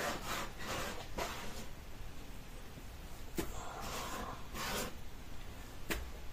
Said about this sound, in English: so take off the sand